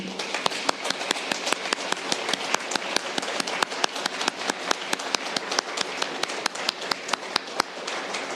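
Warm applause welcoming Cardinal Yeom Soo-jung before a keynote on peace on the Korean peninsula, steady sustained clapping from a hall audience with distinct sharp claps standing out, even in loudness across the whole stretch and without voices.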